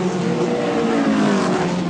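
A 1987 Texaco Eggenberger Ford Sierra touring car races in the Wellington Nissan Mobil 500 street race, its engine roaring loud and sustained as it blasts past at speed.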